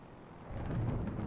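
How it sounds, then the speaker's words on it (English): Thunder from a storm rolls in as a low, swelling rumble that grows louder over a second, with faint rain-like hiss on top and no talk. "Listen to the thunder."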